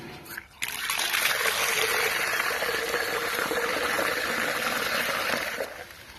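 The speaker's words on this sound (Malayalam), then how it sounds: "ഇനി നമുക്ക് ഇതിലേക്ക് ഡയറക്റ്റ് വെള്ളം എടുക്കാം" Water pours steadily into a container for chicks for several seconds, a continuous close trickling splash after a brief pause at the start.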